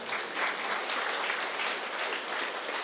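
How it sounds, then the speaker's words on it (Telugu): Sustained, dense applause from an audience at a spiritual meditation-centre anniversary festival, a steady even wash of many hands clapping throughout with no pauses. "వీటి ఒకసారి గట్టి క్లాప్స్ కొడదాం"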